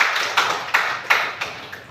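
Students in a classroom clap in short, separate bursts, five or six sharp claps at roughly even spacing, close and fairly loud against a quiet room.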